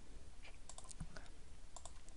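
Typing on a computer keyboard: a short run of quiet, scattered key clicks, faint and close, with no talking.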